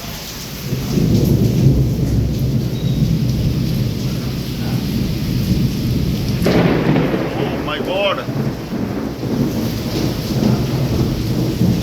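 Heavy thunderstorm over Wankaner: loud, continuous downpour with a deep thunder rumble rolling underneath and a sharp crack partway through. A voice briefly exclaims over the storm.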